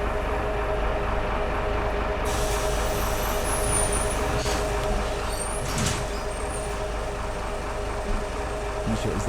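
Bus in a video game pulling up with hissing air brakes and door sounds, a continuous engine rumble underneath several sharp high hisses and clunks.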